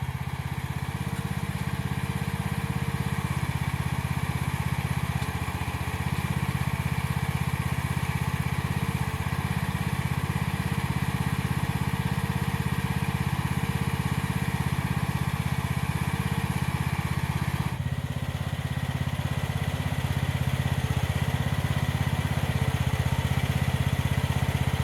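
The small engine of an AGT MX15R mini excavator runs steadily at a constant idle-like drone with light mechanical clatter, close and continuous throughout with no talking.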